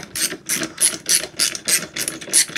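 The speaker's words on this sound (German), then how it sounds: "wir schrauben mal weiter auseinander" A ratchet clicks in rapid bursts, about eight even strokes, while parts come off a Simson Schwalbe M500 moped engine during teardown. It is close, loud and dry, with no voices.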